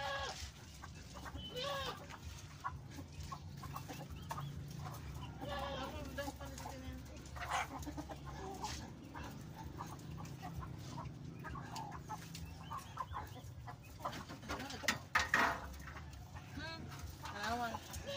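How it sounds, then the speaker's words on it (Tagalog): Chickens cluck and chatter in a busy, continuous flock during feeding, with a voice talking over the clucking throughout. "Ako ipakita ninyo nga pagpakaon ko sa mga manok."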